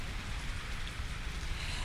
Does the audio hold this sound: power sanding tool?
no